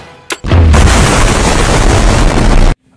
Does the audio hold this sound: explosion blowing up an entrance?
yes